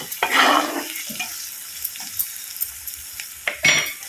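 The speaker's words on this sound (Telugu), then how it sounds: "ఇందులో పచ్చిమిరపకాయలు వేస్తున్నా అండి, ఒక 4-5 పచ్చిమిరపకాయలు." Four or five green chillies fry in hot oil with curry leaves for a dry prawn curry, giving a bright close sizzle and crackle with stirring scrapes and bursts of spattering, and no voices.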